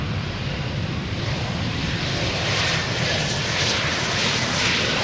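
An airliner coming in to land on the Polderbaan runway at Amsterdam Schiphol on a hot, sunny day: a steady, broad jet-engine roar, loud and continuous, swelling slightly as it passes, with no voices over it.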